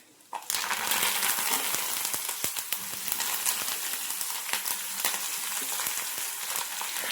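Curry leaves hit hot oil already holding fenugreek and kalonji seeds for a traditional homemade hair oil. A sudden loud sizzle starts after a quiet moment and keeps crackling steadily throughout.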